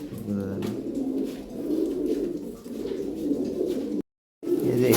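Low, burbling coos come from fancy Moynar Jag pigeons kept for sale, repeating steadily and close up, with a brief dropout of total silence near the end before the cooing resumes.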